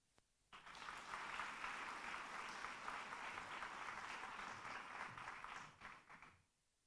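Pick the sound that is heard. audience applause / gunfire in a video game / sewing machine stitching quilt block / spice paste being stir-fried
audience applause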